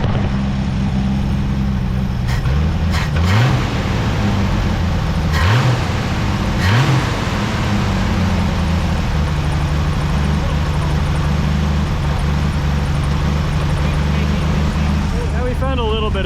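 Engine of a long-parked 1973 Mercury Comet running with an uneven throttle, a loud idle broken by several sharp revs that rise and fall, with people talking over it.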